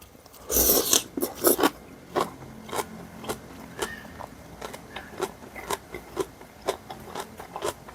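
Crisp kimchi pancake (kimchijeon) is bitten with a loud crunchy burst up close, then chewed in a run of regular crackly crunches that gradually soften, with no talking.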